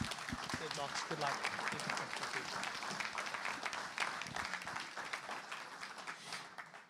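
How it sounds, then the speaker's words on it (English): A crowd applauds a motorcycle rider at the Southern 100 2025 launch event, with dense, steady clapping sustained for about seven seconds. A few voices can be heard among the clapping. "give him a round of applause"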